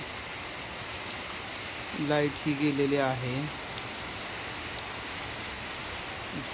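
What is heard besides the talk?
heavy rain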